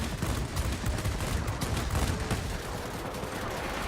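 Anti-aircraft gunfire in World of Warplanes, aimed at a Soviet Yak-3T fighter. It plays as a dense, continuous roar of rapid shots and bursts, steady and loud throughout, with no talking.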